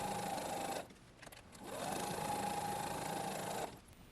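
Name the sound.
sewing machine sewing quilt blocks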